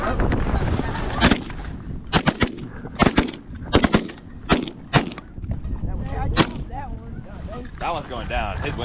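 Several shotgun shots are fired at geese during a hunt. The sharp blasts come in quick irregular succession, loud and close, with goose honking and a voice mixed in between them.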